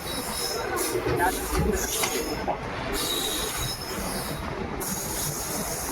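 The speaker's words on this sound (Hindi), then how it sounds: "2 मिनट रुकने के बाद ट्रेन डिपार्चर हो रही है नावा सिटी रेलवे स्टेशन से" Rumbling 14087 Runicha Express train departing Nawa City railway station, a steady rail roar with wheel noise and metallic screeching from the wagons, heard up close throughout.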